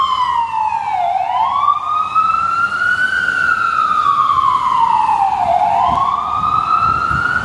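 A loud emergency siren wails in slow rising and falling sweeps, close by and steady, with road noise underneath, on a New York City street.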